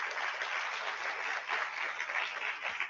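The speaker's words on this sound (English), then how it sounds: "let's give a big round of applause for our panelists and hosts" Continuous, even applause from an audience honouring panelists and hosts of a community lunch-and-learn event, a dense wash of clapping heard up close without a break.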